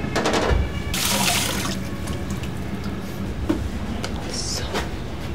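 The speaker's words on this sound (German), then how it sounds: "da kommt jetzt noch ein bisschen Wasser mit rein" Water is poured into a pan of simmering goulash, a steady splashing, gurgling stream with a few drips, close and fairly loud, continuing for several seconds.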